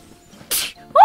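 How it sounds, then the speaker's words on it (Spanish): A single sharp sneeze bursts out at close range during a Spanish-language gameplay session, followed moments later by a brief rising tonal sound. "Disculpen por los estornudos."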